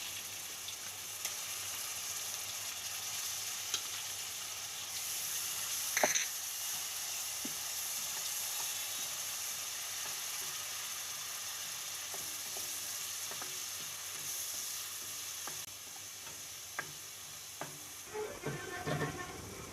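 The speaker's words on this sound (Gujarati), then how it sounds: "હવે આપણે આ ડુંગળી છે એ આપણે નાખી દેવું, ડુંગળીની પેસ્ટ." Onion paste frying in a pan for a Gujarati rajma curry, a steady close sizzle running throughout with occasional stirring clicks and scrapes, no talk.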